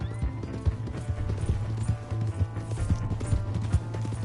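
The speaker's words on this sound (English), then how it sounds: "Hey, that's my horse! Just borrowing it." Horse hooves drumming steadily in Red Dead Redemption 2 on PS5, a close, rhythmic clip-clop gallop over a low continuous rumble, with no talk.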